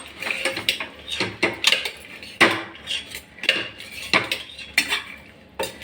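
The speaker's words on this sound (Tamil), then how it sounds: "கொஞ்ச நேரம் இப்படியே எல்லாம் இதெல்லாம் ஸ்ப்ரெட் ஆகிற மாதிரி நல்லா அலக்கி விடலாம்" Utensil scraping and clinking in a pan while sliced potatoes, green peas and vegetables are stirred for vegetable pulao, a series of irregular close metallic scrapes and taps.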